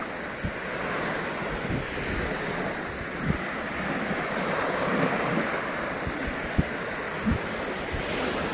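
Surf rolling onto Sao Beach on Phu Quoc island, Vietnam, a quiet palm-lined shore, steady and moderately close with a constant wash of foam and wind rumbling over the microphone, a few soft thumps breaking through.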